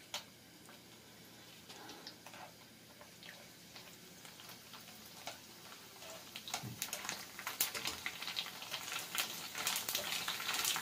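Golgappas (pani puri) frying in hot oil, faint and quiet at first, then a busier run of bubbling and sputtering crackles builds toward the end, with no talk.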